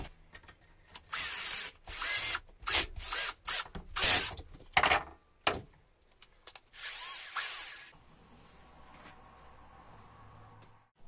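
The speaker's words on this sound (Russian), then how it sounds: "проволоку можно не только так завязывать, а еще при помощи самого просто шуруповерта" Cordless drill-driver spinning an attachment to twist wire, in repeated short whirring bursts of about a second each, close and fairly loud, then a quieter steady tail.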